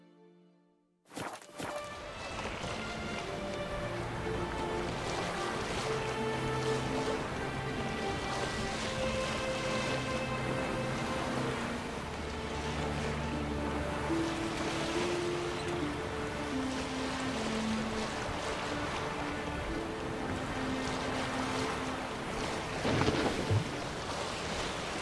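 A boat sails on the sea in The Witcher 3 around Skellige, with steady water splashing, wind and creaking wooden hull sounds over a musical score, continuous for the whole stretch with no talk.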